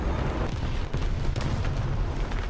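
Distant explosion during a War Thunder tank battle with a 1940 T-34: a continuous low rumbling roar with faint crackling bursts, steady and muffled throughout.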